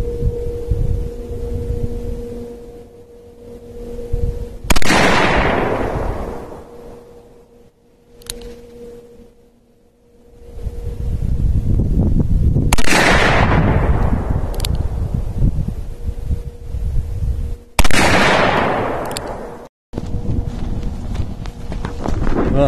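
Three loud gunshots from a Taurus 627 Tracker revolver loaded with 158-grain Berry's hollow points, fired outdoors with pauses of several seconds between shots. Each sharp crack decays into a rolling echo.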